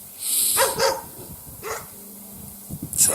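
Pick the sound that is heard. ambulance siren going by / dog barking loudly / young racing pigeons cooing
dog barking loudly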